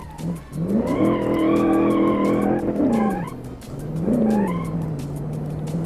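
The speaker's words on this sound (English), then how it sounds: "This thing is probably gonna be like drift. Yeah, it's just drifting all around the course." A 1956 Silverton Concept King drifts around a course, tires squealing in long wavering howls over engine drone, loud and close, easing off briefly before another sustained screech.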